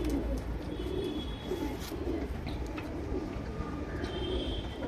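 A Chinese pigeon, a male flyer, coos softly in low repeated phrases, with faint distant chirps and a steady background hum.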